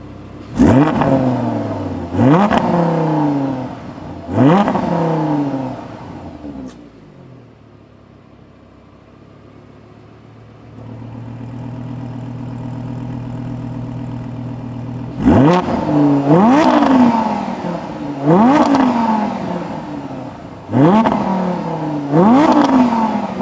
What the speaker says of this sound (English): We'll do some revs with the valves closed and then some revs with the valves open as well.